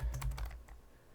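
A few quick keystrokes on a computer keyboard, a short close burst of clicks that fades within a second.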